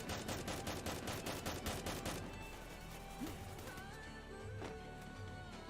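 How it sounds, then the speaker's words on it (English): Gunfire in PUBG Mobile, with rapid regular shots in the opening two seconds, then a quieter stretch with a few scattered distant reports over a steady background hum. "They're taking shots already at Augie."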